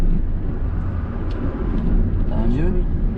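Car engine being driven by a learner during a lesson, a steady loud hum that climbs in pitch as it accelerates in third gear, close inside the cabin with a voice over it.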